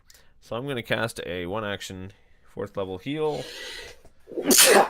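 A single sharp, noisy sneeze bursts out loudly at the end, after a stretch of talk during a live tabletop dice game session.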